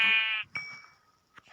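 A sheep gives one clear, nasal bleat up close, followed by quieter faint sounds and a brief soft noise near the end.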